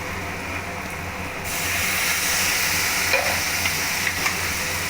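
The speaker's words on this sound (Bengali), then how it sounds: "ভালো করে নাড়িয়ে নিয়ে আমি এটা একটু ঢেকে দেব ভালো করে নাড়িয়ে নিচ্ছি" Taro stolon curry being stirred as it fries in a pan, a constant loud sizzle and hiss that swells after the first second, with scraping and clinks of the spoon.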